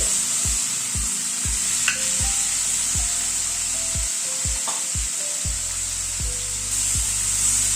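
A spatula scrapes chopped tomato around a hot pan, giving a regular series of short knocks and scrapes over a soft background sizzle, close and fairly loud, with nobody speaking.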